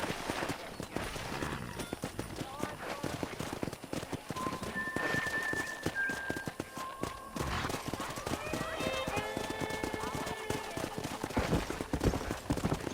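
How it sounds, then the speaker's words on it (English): Wild horses gallop in a Western open-world game set on a frontier ranch, with dense rapid clip-clop hoofbeats throughout, an occasional whinny, and voices talking over the herd's steady rumble. "That ranch hand said there's a pack of wild horses nearby"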